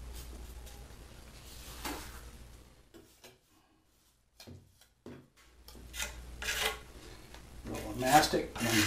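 A trowel scrapes and spreads mastic across the back of a thin brick for an interior exposed brick veneer wall, in rough rasping strokes separated by quiet pauses, with a person talking.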